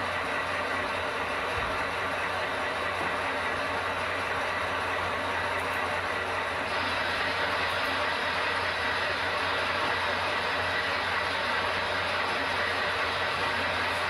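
A model railway train on a layout runs with a steady, continuous mechanical whir and rumble, a constant close drone with a slight shift in tone partway through and no clear voices.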